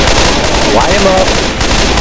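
Dense, loud gunfire from the Left 4 Dead 2 survival mode fills the moment in a continuous rapid barrage, with a brief voice faintly under it.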